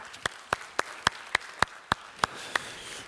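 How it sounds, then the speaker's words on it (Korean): A church congregation claps in steady unison, about ten evenly spaced, moderately close claps over a few seconds with no talking. "우리 이렇게 한번 격려의 박수 한번 할까요?"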